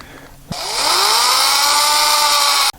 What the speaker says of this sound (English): we're gonna essentially drill right there